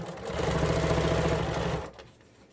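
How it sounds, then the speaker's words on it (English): Sewing machine running a short reverse stitch while sewing a surgical mask: a close, steady mechanical whir and rapid needle rattle for about two seconds, then it stops. "I'm just going to do a little reverse stitch to secure my thread."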